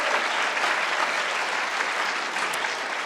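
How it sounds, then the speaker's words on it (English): An awards-ceremony audience claps steadily for volunteer committees and judges at the James Beard Media Awards, a dense, even wash of applause throughout with no voices on top. "Please give them a round of applause"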